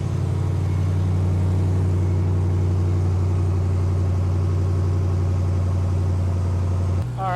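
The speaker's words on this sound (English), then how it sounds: "we're going to go ahead and let the truck run for a little bit and get up to operating temperature" A Ram TRX truck's engine idles while warming up, a loud, steady low rumble with an even throb close at hand, shifting slightly just before the end.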